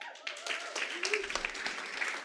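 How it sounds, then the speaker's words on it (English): An audience claps steadily, a room full of applause with sharp scattered hand claps, while a voice speaks briefly over it. "please clap a little bit more for yourselves"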